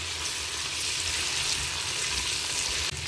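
Tomatoes fry with spices in a pan, giving a steady, close sizzle that crackles without a break. A short clatter near the end, likely from stirring, and nobody talking.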